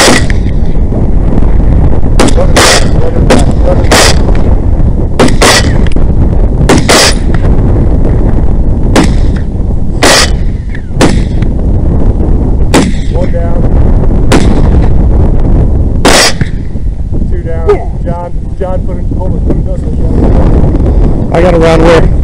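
Rifle shots ring out during a nighttime thermal-scope hog hunt, about a dozen loud, close, sharp cracks fired at irregular intervals over steady wind noise, with people talking quietly between shots.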